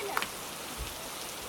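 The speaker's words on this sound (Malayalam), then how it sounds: "മഴ ശബ്ദം നല്ല കൂട്ടിയിട്ട് ഞാൻ നിങ്ങളെ കേൾപ്പിക്കുകയാണ്." Steady rain patters across the full stretch as a soft, even hiss of drops falling outdoors at Vagamon, with a faint tap or two near the start.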